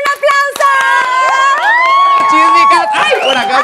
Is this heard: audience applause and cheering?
yes